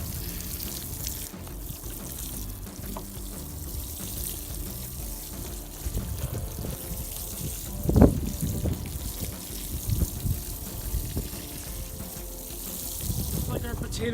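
Water pours steadily onto freshly planted Yukon Gold seed potatoes in outdoor containers, a continuous splashing trickle with a brief louder gush partway through.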